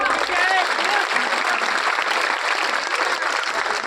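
A rally crowd claps steadily in dense, sustained applause for a community leader before his speech, loud and continuous throughout with no gaps.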